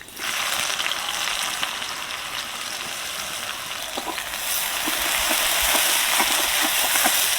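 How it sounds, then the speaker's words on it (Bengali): Chopped onion hits hot mustard oil with a touch of sugar and fries in a loud, steady sizzle that swells a little partway through, with a few faint clicks of stirring and no talking. "পেঁয়াজটা হালকা করে ভেজে নেব"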